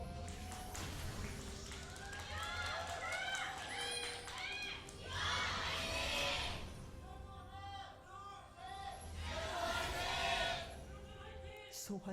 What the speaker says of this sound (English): And a last cheer for Dongjun, the commentator for the Korean cast.